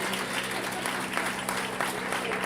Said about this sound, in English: We need you to congratulate these exhibitors with a big round of applause